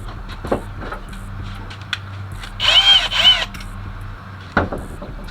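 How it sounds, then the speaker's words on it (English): A power drill whirs in two short bursts back to back, separated by a brief gap, amid scattered knocks and clicks in a quiet room. "Y'all heard my drill."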